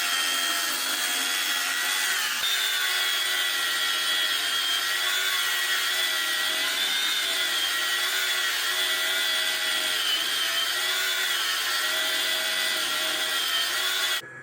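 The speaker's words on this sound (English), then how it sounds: "I'm pretty sure an angle grinder shouldn't do that." An angle grinder runs continuously for about fourteen seconds, a loud, steady high-pitched whine with a gritty buzzing edge that cuts off abruptly at the end.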